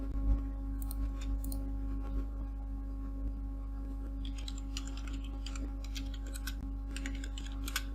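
Computer keyboard typing while text is entered for a Christmas greeting card design in Photoshop, bursts of soft clicks near the start and a denser run of keystrokes in the second half over a steady low hum.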